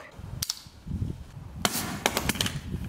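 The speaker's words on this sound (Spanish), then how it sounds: "la explosión que hace cuando el gas se expulsa" An airsoft gas grenade bursts in a few sharp popping cracks close by, followed by a short cluster of hissing snaps as the gas vents, with no speech.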